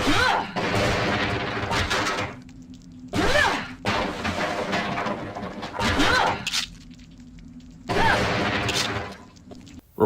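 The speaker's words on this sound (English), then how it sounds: "Replacing that sound for smashing the crates would probably go a long way for encouraging players to open up the barrels" Crates being smashed in the video game The Last Goodbye, with repeated loud crunching, cracking breaks coming in bursts roughly every two to three seconds, mixed with game sounds and some background voice.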